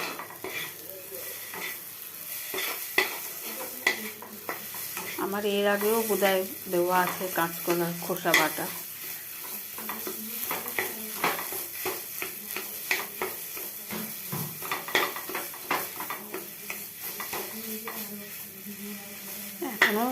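Frying and stirring in a pan, a continuous crackling sizzle with irregular scraping strokes throughout, someone talking over it for much of the time.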